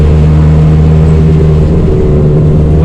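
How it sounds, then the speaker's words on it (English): Steady, loud drone of a 1994 Suzuki Carry kei dump truck's three-cylinder engine with four-speed gearbox while driving, a constant low rumble with no breaks and no talking. "this is a 94 Suzuki Carry with the dump body. It's 4-speed,"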